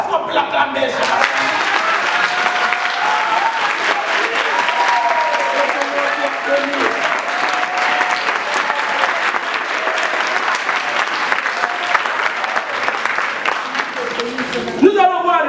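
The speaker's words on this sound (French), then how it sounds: "Est-ce qu'on peut l'acclamer ce matin?" A church congregation applauds and cheers in acclaim of God during a Sunday morning service in Paris, a dense, sustained wash of clapping and crowd voices that carries on steadily for several seconds before tapering off.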